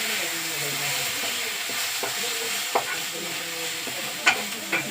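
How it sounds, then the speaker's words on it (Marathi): Masala of coriander powder and ginger-garlic paste fries steadily in a pan over low heat, a continuous close sizzle with occasional soft stirring taps and small pops. "छान असा आपला मसाला फ्राय होतो"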